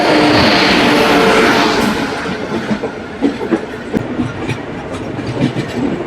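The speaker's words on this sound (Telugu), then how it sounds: "ఇది వాస్కో డ gamma weekly super fast express." The Vasco da Gama weekly superfast express rushes by close and loud, a dense roar that eases into rhythmic clickety-clack of wheels over rail joints, with no voices.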